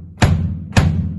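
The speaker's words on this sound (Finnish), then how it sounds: "Tämä iso rumpu tässä on passorumpu eli pasari. Ja sitä soitetaan tämmöisellä pedaalilla." Two deep, solid kicks of a bass drum struck with a foot pedal, evenly spaced and close, each with a short booming decay.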